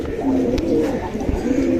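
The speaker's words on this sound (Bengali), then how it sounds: "ওই যে কবুতরটাকে দেখি ঢুকানোর চেষ্টা করি" A pigeon coos close by in soft, repeated throaty phrases across a short stretch, with no talk.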